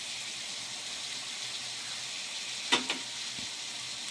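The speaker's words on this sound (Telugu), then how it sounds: "వేసుకున్న ఒక్క 2 నిమిషాలు మనం వేయించుకుందాం" Potatoes and beans frying in a pan for a curry give a steady, even sizzle throughout, broken by one brief clatter and a softer knock near the end.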